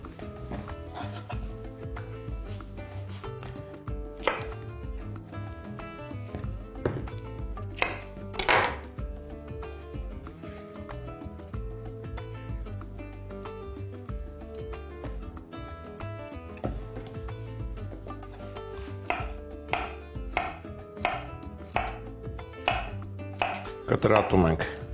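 Bananas chopped with a knife on a cutting board, a steady series of close, crisp taps repeating at an even pace for a long stretch, with no talking.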